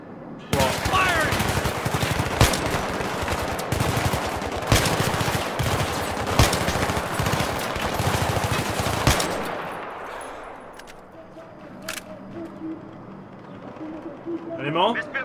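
Rapid automatic gunfire in the Battlefield 3 campaign, loud dense bursts of rifle and machine-gun shots for several seconds, then sparse distant shots amid quieter ambience, with voices talking over parts.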